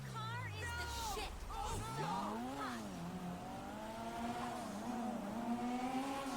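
A Supra's engine in GTA 5 revs hard as the car heads into a stunt jump, pitch dropping then climbing in repeated sweeps, with a brief tire squeal and steady loud engine drone.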